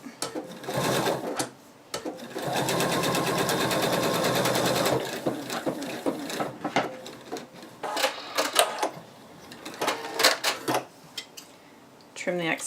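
A sewing machine runs in a brief stitch, then in one steady burst of about three seconds while sewing around a betta fish plush piece, followed by clicks, rustling and handling noises with some talk.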